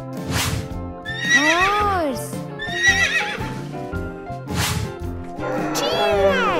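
Horse neighing and whinnying in repeated rising-and-falling calls, loud and close, with a few hoof-like knocks between them and no talking.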